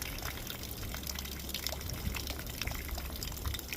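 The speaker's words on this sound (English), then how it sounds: "I'm over here watering my plants" Water from a garden watering flow splashes and trickles onto plants nearby, a continuous close, lively patter with irregular drips and no talking.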